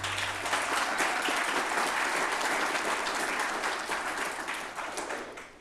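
A live podcast audience in La Crosse, Wisconsin, applauds to welcome a guest: thick, continuous clapping that stays loud before easing off slightly at the end.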